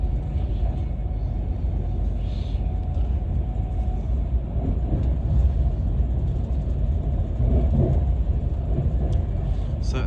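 Avanti West Coast train running toward London Euston near Leighton Buzzard, heard from inside as a steady, loud low rumble and rolling roar with faint higher rattles throughout.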